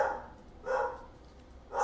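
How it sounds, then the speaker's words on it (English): A dog barks indoors, two or three separate barks at moderate distance, fairly faint, with quiet room tone between them. "Sorry for the barking dog."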